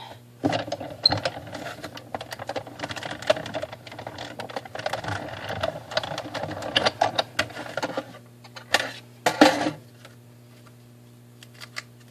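Die cutting machine rolling holly and snowflake dies through, a low steady mechanical hum with clustered clicks and rattles over about nine seconds, then fading to quiet.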